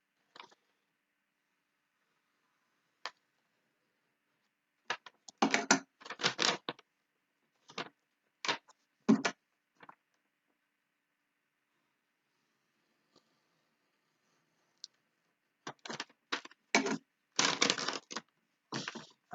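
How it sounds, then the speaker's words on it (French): A utility knife slices through a paper page in a series of short scraping strokes, grouped in bursts with pauses between them, close and fairly quiet, with no talking. "Je vais découper la page. On va faire au cutter."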